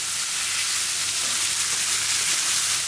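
Food frying in a pan of oil gives off a steady, even sizzling hiss that runs unbroken and fairly loud throughout.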